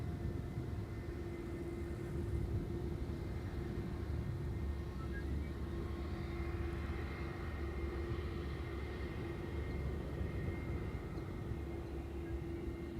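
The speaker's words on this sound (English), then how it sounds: "The plane following in its wake is an A321neo from KLM as well" A KLM Airbus A321neo arriving from London Heathrow on approach to Schiphol's Polderbaan runway, a faint, steady distant jet rumble with a constant droning tone throughout.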